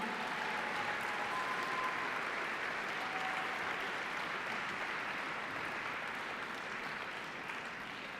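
Audience applause for the Fairview High School team from Boulder, Colorado, at the 2017 National Science Bowl awards, a steady, dense clapping that holds evenly for the whole stretch with no talk over it.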